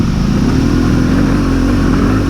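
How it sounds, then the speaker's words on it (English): A motorbike on an enduro trail, its engine a loud, steady rumbling drone close by with no talk over it. "Is this a bike coming, mate?"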